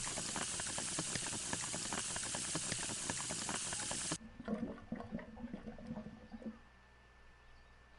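Running water in the game Hello Neighbor: a loud, steady rushing hiss that cuts abruptly midway to a quieter gurgling trickle, which then fades to a low hum, with no talk.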